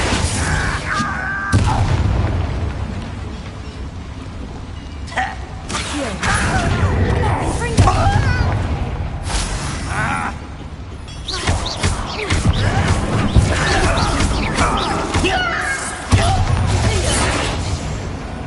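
Confringo spell blasts in Hogwarts Legacy land as a string of booming impacts and crashes, scattered irregularly amid ongoing combat clatter over about eighteen seconds, loud and close.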